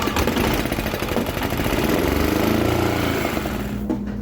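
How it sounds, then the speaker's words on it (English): An old auction golf cart engine cranks and turns over with a steady rough mechanical chugging, loud and close, before stopping abruptly near the end. "let's put another gallon in the fuel tank and get the engine spun over and see what comes out"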